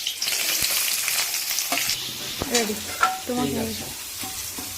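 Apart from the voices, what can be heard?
onion frying in a pan for pasta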